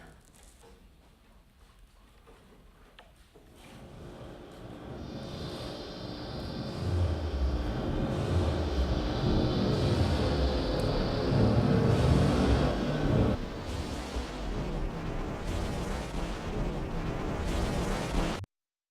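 Wind turbines in Comanche, Texas roar continuously, a broad rushing drone like a jet plane that never lands, swelling from a quieter start to a loud steady roar that holds for many seconds before cutting off.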